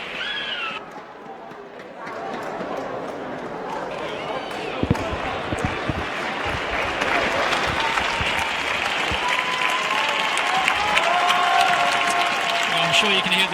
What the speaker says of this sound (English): I'm sure you can hear the applause ringing around the Omnisport Arena here.